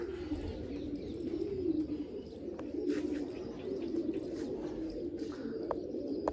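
Several pigeons coo continuously at a loft, with low rolling calls overlapping, occasional chirps and faint clicks over steady background noise.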